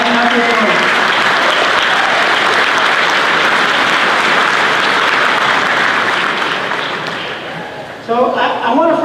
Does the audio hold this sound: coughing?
no